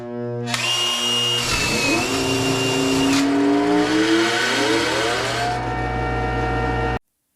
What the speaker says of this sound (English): If your bench grinder is behaving like this, you likely have a bad starting capacitor.